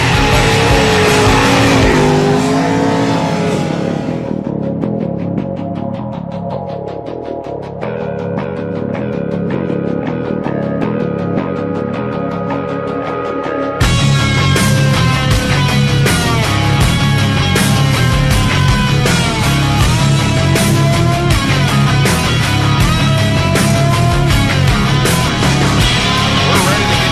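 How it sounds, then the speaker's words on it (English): 410 sprint race cars roll out onto the Williams Grove track, loud engines droning and revving steadily throughout, growing denser and louder partway through as more cars join, with crowd noise behind. "the cars are making their way out to the track"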